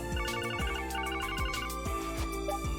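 A cell phone rings in The Legend of Heroes: Trails from Zero, a repeating electronic ringtone melody in steady bursts over game background music, with no talking.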